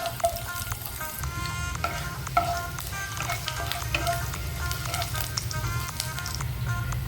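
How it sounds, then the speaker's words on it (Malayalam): Chopped ginger, garlic and curry leaves frying in hot oil for an egg curry: a continuous close, bright sizzle and crackle with occasional spatula taps, no voices. "ഓയിലും ചൂടായി കഴിഞ്ഞാൽ ചെറുതായിട്ട് അരിഞ്ഞിട്ടുള്ള ഇഞ്ചിയും വെളുത്തുള്ളിയും കൂടി ഇട്ട് കൊടുത്ത് അല്പം കറിവേപ്പിൻ്റെ ഇലയും കൂടി ഇട്ട് കൊടുത്ത് നന്നായിട്ടൊന്ന് മൂപ്പിച്ചെടുക്കാം"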